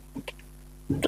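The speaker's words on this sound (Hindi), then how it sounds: "थोड़ा सा मेरे खांसी को झेल लो बेटा" A man coughing twice during a trigonometry lesson, one short dry cough near the start and a heavier, louder cough at the end, separated by a quiet gap with a steady electrical hum underneath.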